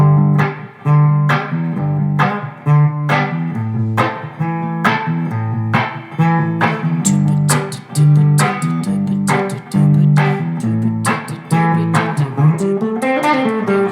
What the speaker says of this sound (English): pick the A and flick. Almost like adding a little moving bass line.